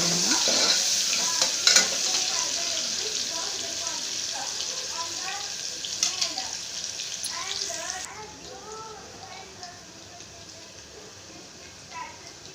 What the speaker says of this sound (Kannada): ಒಂದು ಸ್ವಲ್ಪ ಬ್ರೌನ್ ಕಲರ್ ಬರಲಿ ಫ್ರೈ ಆಗುತ್ತಿದೆ